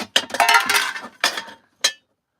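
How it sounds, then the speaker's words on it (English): A camping frying pan and other metal cooking gear rattle and clink as they are handled inside a box, a few close, sharp bursts of clattering with short pauses between. "I've got this little frying pan"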